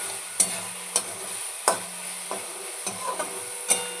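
A vegetarian dish frying in oil with asafoetida tempering, stirred with a spoon that scrapes the pan in sharp, irregular knocks over a soft, steady sizzle.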